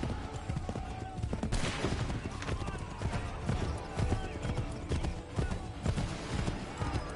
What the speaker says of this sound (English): My horse fast as fuck.